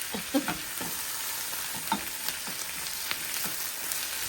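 Greens and drained soaked moong dal are stirred in a pan, making a soft, continuous sizzle broken by light irregular scrapes and taps of the spoon, fairly quiet and close.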